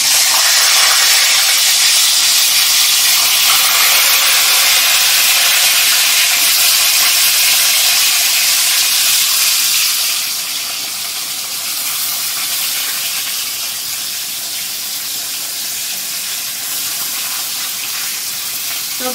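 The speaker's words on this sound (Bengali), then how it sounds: "তেল গরম হয়ে গেছে, এবার মাছগুলো দিয়ে দিব।" Snakehead fish frying in hot oil, a loud, steady sizzle and hiss that runs unbroken and eases slightly partway through as the oil settles, with no talking.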